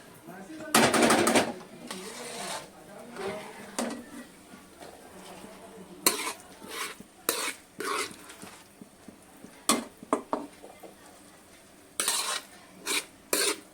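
Pav bhaji being stirred as mashed vegetables go into the pan, with scraping and clinking of a spoon against metal in bursts, under talk.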